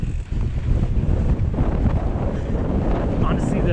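Strong wind buffets the microphone on an exposed mountain bike trail climb, a loud continuous low rumble that swells and holds for the whole stretch.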